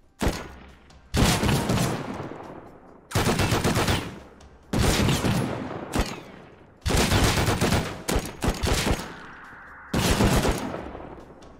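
Video game gunfire in loud, sustained bursts of automatic fire, about five long volleys separated by short pauses, close and dominant with no talking.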